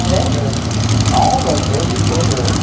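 A 705 cubic inch Chevy engine with a single carburetor in an outlaw pro stock drag car with a Jeep body, a loud, steady low rumble held throughout at the starting line, with a voice talking over it.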